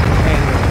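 A helicopter in the video game Call of Duty Modern Warfare 2, heard as a loud, close, continuous rotor and engine rumble for a brief moment.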